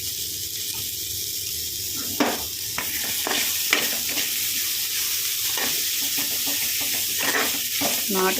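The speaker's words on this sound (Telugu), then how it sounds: "ఇలా అయితే ఫ్రై చేస్తున్నాను. దానిలో అయితే ఉల్లిపాయ, కరివేపాకు, జీలకర్ర, వెల్లుల్లి కొట్టేసాను." Onion, curry leaves, cumin and garlic fry in a pan for a country broad-bean curry, giving a steady close sizzle and crackle throughout, broken by repeated scraping stirs of a spoon against the pan.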